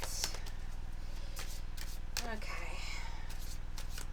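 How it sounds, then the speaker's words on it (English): A deck of tarot cards is shuffled with repeated quick riffling and flicking bursts, close and fairly steady, while a voice speaks briefly over the shuffling. "I'm going to give the cards a really good shuffle."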